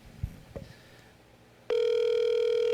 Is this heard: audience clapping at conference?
no